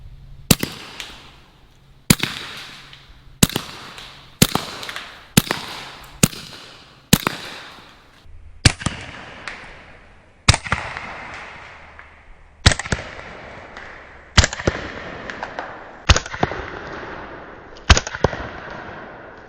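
A Bintac T9 gun fires repeatedly into soda cans, giving a steady run of about a dozen sharp, loud pops with metallic smacks and splashy tails, quick at first and then spaced more widely.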